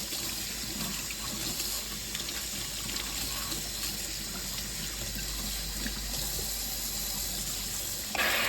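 Steady running water from a tap pours over harvested garden produce in a sink, a continuous close gush with no talking.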